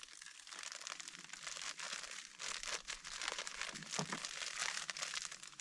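Fishing groundbait being mixed with sweet corn inside a plastic bag at the shallows of a river, giving steady crinkling and crunching rustles with occasional sharper crackles, close and fairly loud throughout.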